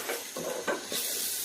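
Rice for khichuri is tossed through sizzling spices, with a few scraping strokes of the stirring spoon rising over a constant loud frying hiss, heard up close.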